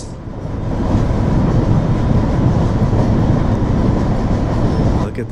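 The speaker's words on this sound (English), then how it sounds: "Squealing." Heavy freight train on Cajon Pass, braking on the downgrade with wheels squealing and grinding loudly and steadily, close and continuous with a rumbling undertone.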